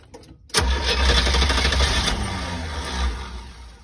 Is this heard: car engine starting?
yes